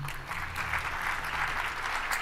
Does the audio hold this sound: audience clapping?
yes